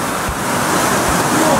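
A rushing waterfall in a valley on a trekking trail, a steady broad roar of falling water with wind buffeting the microphone, loud and continuous throughout with no talking.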